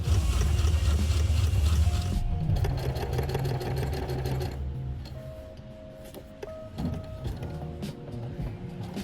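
A sewing machine stitches through material for a sneaker build with a steady mechanical whir, loud at first, then in shorter runs and pauses broken by faint clicks and ticks.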